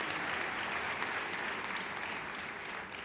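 Audience applause fills the hall at a white coat ceremony, a dense, even wash of many hands clapping at steady volume before tapering slightly at the end.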